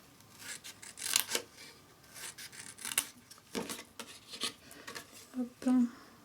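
Scissors snip cardboard on the bias while a daisy-bouquet vase is crafted from a box, quiet scattered cuts and rustles with a voice talking between them.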